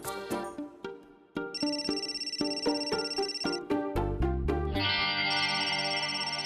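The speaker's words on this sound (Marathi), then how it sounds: "एक मिनिट हा, वहिनीचा फोन आहे." An electronic phone ringtone plays a bright, repeating melody, loud and close, shifting into a sustained tone near the end.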